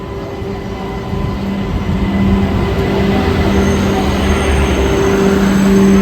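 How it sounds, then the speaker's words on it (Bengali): Lalgola passenger train passing at close range, loud rumbling wheels with sustained squealing tones that build slightly over six seconds, no talk. "এই ট্রেনটি হলো লালগোলা ট্রেন, কৃষ্ণনগর লোকাল নয়।"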